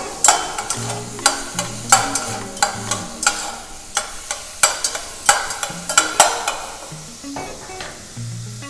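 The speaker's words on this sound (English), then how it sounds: "now I'm going to throw in some onions and some garlic, and I'll cook this further" Onions and garlic frying in a pan for lamb moussaka, a soft sizzle under brisk, repeated scraping stirs of a utensil at a steady rhythm.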